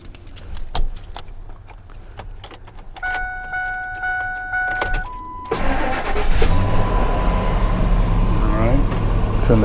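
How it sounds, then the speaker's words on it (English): Keys jingle and beep inside a Ford truck cab, then the engine cranks, catches and settles into a loud, steady idle close by. "we're going to start the truck"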